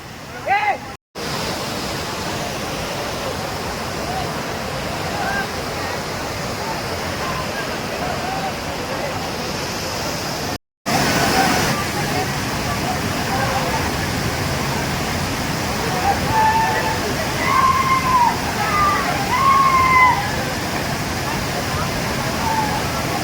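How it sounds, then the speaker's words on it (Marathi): Secret waterfall at Tamhini Ghat roaring loud and steady, a continuous dense rush with two brief dropouts, people talking over it and birds chirping faintly later on. "हा आहे सिक्रेट धबधबा"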